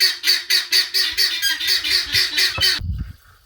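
A guineafowl on a farm calls in a fast, rhythmic series of harsh, repeated squawks, loud and close, before stopping abruptly.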